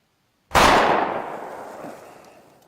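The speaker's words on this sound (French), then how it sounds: "C'était quoi, ces coups de feu?" A single sharp gunshot in an action film, loud and close, with a long echoing tail fading over about two seconds after a brief silence.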